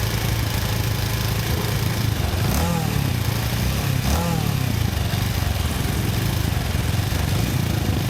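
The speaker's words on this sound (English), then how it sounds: "You hear me revving the bike." A Kawasaki Avenger 220 cc motorcycle engine, undergoing overhaul for faults, idles roughly up close, with two brief revs rising and falling in pitch amid constant loud rumbling.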